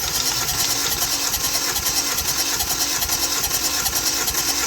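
A car engine that a shop called blown cranks on the starter with the key turned during cylinder-by-cylinder testing, a loud, steady, whirring churn with a fast regular pulse and no talking.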